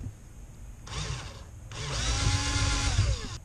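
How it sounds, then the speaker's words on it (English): A power drill whirs in two bursts, a short one then a longer one, grinding into wood with a steady high whine. "Drill a hole right over there."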